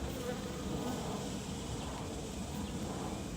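Honey bees at an open hive during an inspection, a low, steady buzzing swarm that is quiet but continuous and close, with no voices over it.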